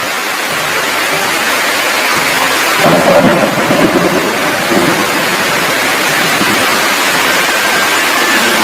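Heavy rain pours steadily in a wide hiss, with a low rumble of thunder swelling near the middle before the downpour continues alone.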